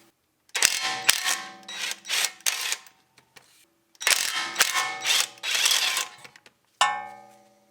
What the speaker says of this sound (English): This is your 14mm socket, and we're going to go ahead and loosen these out.